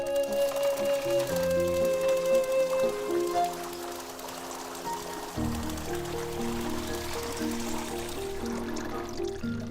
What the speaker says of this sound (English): pull down on the rope and pour as much water as you'd like